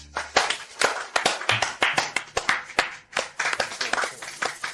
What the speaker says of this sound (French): Applaudissons chaleureusement pour souhaiter la bienvenue à Monsieur Su.